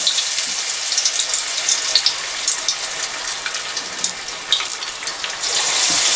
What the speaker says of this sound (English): now we're going to start putting the breaded fish into the oil